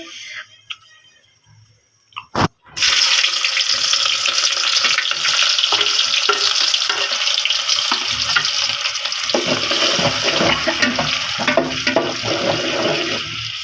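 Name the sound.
tomato-yogurt paste frying in hot oil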